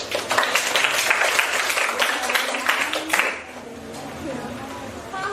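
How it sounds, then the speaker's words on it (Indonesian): Classroom applause from students after a group presentation, a burst of many hands clapping that runs about three seconds, then fades into quieter room noise and murmuring. "Berikan tepuk tangan."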